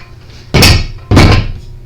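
Metal jack stands drop onto the rear end of a lawnmower in two heavy, loud thunks about half a second apart, each one followed by a short ringing tail.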